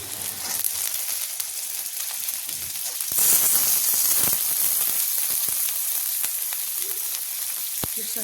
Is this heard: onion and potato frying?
yes